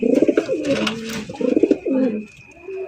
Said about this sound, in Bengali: কালদম কবুতর দেখেন, ইন্ডিয়ান কালদম কবুতর